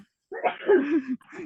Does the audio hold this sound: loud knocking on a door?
no